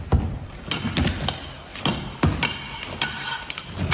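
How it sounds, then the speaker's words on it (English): Crowbar prying and knocking at an old wall in the grand salon of a chateau, where a 15th-century hidden door is found: a run of sharp woody thuds and cracks, close and fairly loud, spaced irregularly across the clip. "Let me try it with the crowbar."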